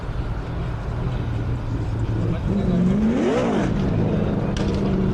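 An original Audi S3's engine at a car event, a steady idle rising into a brief rev that climbs and falls back, heard amid crowd chatter and a speaking voice.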